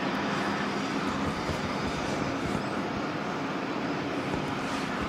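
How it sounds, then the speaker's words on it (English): A helicopter whirs close by, out of sight behind the aero club at a wet Christchurch Airport. A steady, dense roar with a rhythmic low flutter holds evenly loud throughout, with no voices. "There's definitely a helicopter whirring away very close to here."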